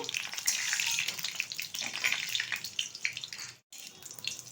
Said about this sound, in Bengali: তেলের মধ্যে দিয়ে দিচ্ছি দুটো শুকনো লঙ্কা কিছুটা কালো জিরে ফোড়ন ভালোভাবে ভেজে নেব